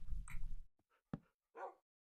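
A Minecraft dog in a video game gives short whimpers and soft yips, a few brief separate cries close up and fairly quiet, with no talk over them.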